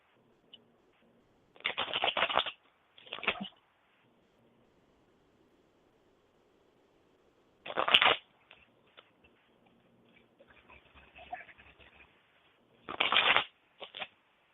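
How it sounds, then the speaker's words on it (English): A deck of cards is shuffled during a psychic reading, several short riffling bursts separated by pauses, close and crisp against near silence, with faint handling rustles in between. "Okay, let me shuffle."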